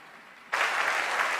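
Church congregation breaks into sudden, loud applause after a half-second lull, dense clapping continuing steadily to the end.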